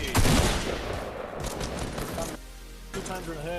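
Video game gunfire cracks in a quick burst at the start, then fainter shots and effects continue under a voice talking over the game.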